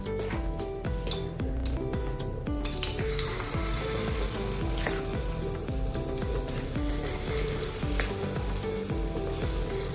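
Ragi dosa batter frying in hot oil for a ragi bun dosa, a steady loud sizzle throughout with music-like tonal layers and clicks over it, no talking.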